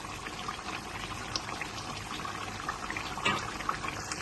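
Half a cup of yogurt goes into a pan of chicken karahi with oil and masala, giving a faint, steady sizzle and soft liquid spatter close by.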